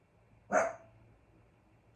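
A single dog bark sounds once, short and fairly distant, in an otherwise quiet indoor room with a low background hum.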